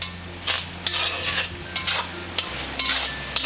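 Spicy Chettinad chicken sautéing on a high flame with salt, a steady sizzle broken by repeated scraping strokes of a spoon stirring in the pan, close and moderately loud with no talking.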